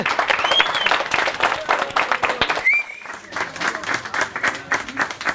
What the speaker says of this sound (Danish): vi klapper lige en gang til